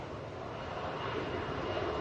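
Airbus A321 jet airliner engine roar heard from a plane-spotting spot at Atlanta airport, a steady broadband rumble that swells slightly in loudness over two seconds, distant and continuous with no talk.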